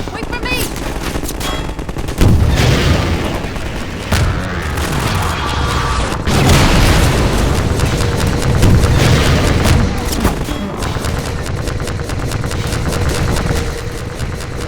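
Half-Life 2 combat brings bursts of rapid gunfire and heavy booming explosions, loud and dense across the scene with brief gaps between volleys.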